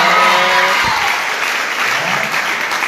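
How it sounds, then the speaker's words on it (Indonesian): Audience applause at a training event, a dense burst of clapping filling the room at full strength and holding steady throughout. "Bapak Hari dan leader nasional Bapak Yandri, berikan aplaus."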